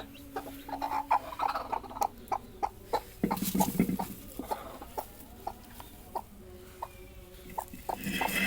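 Hens cluck in short repeated bursts, close by, with a steady low background hum and no talking.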